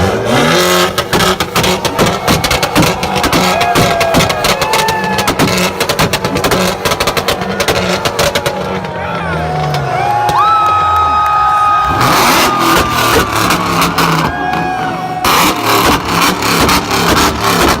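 Corvette and Mitsubishi Evo exhausts revving hard in the finals of an exhaust sound competition, loud sustained engine roars with sharp rapid pops and crackles, and a crowd cheering around them.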